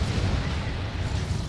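Heavy artillery fire from a D-Cannon in the Dawn of War 2 strategy game, during a 3v3 match: a dense, continuous low rumble of booms and blasts that stays loud throughout.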